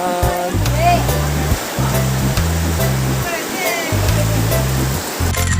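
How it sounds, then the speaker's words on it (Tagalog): Heavy rain pours down on Cagbalete Island as a steady, loud rushing hiss, with a person talking intermittently over it and low tonal sounds pulsing underneath. "Lakas ang ulan, oh."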